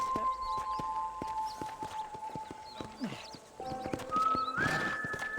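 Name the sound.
horse hooves and whinny, from video game Red Dead Redemption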